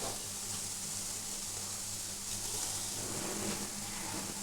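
Palm fruit fritters (taler bora) sizzling steadily in hot oil, a continuous even frying hiss with no talk over it.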